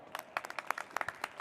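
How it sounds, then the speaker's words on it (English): Scattered hand claps from a small audience at a business conference greeting two speakers coming on stage, sparse and uneven, a few distinct claps rather than a full ovation. "Let's give them a round of applause."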